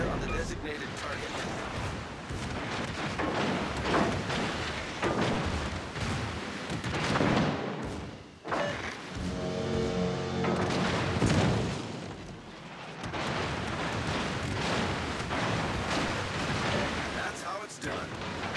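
Concentrated artillery fire on a target in a war video game, with dense, continuous booms and blasts that stay loud throughout, and voices partly heard under the barrage.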